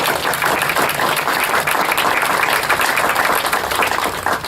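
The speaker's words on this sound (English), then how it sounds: "very large round of applause." Steady, loud applause from an audience honoring volunteers and staff at a bicentennial celebration, dense clapping sustained without a break.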